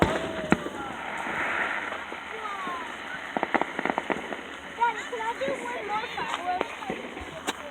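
Fireworks explode nearby in a steady run of crackling pops and sharp bangs over a hissing, rain-like fizz, with people talking throughout.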